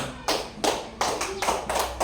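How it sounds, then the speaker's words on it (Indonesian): A classroom group claps hands in a few short bursts during a lesson on Surah Al-Ma'un, quick uneven rounds of close, moderately loud clapping with brief gaps between them. "kita tepuk tangan"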